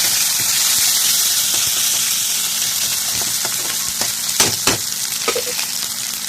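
Chicken fry ingredients sizzle steadily in a hot pan, a dense continuous crackle with occasional louder pops and stirring clatter near the end, close and loud with no talking.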